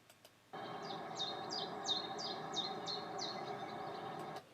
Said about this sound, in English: There's obviously a bird calling there, but it's quite faint and there's a lot of background sound.